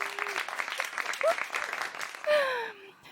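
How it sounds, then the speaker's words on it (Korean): Short burst of audience applause at a motivational talk, moderate clapping mixed with crowd laughter and a few voices, tapering off after about three seconds. "박수 한번 보내주세요, 여러분"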